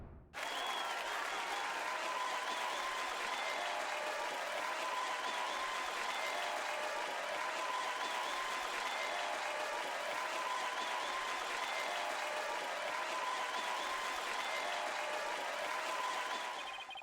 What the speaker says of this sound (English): that cheering soundbite is like 3 seconds long and you can hear it repeat